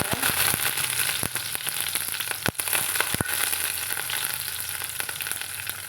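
Shallots and curry leaves fry in hot oil after mustard seeds, a loud crackling sizzle with sharp pops and spatters scattered across a steady hiss.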